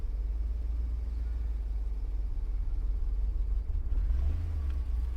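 An old, long-neglected BMW car engine idles and rumbles steadily at low pitch, a continuous droning hum with slight rises, no voices over it.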